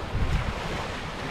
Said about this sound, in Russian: Ближе к морю спустимся, послушаем звуки моря.